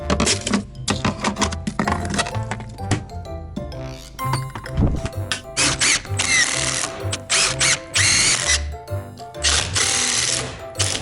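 Power drill driving screws into a garage door frame, a series of loud, uneven bursts of whirring and ratcheting with short pauses between them, close by and with no talking.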